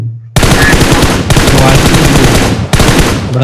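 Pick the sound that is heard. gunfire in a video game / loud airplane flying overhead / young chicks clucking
gunfire in a video game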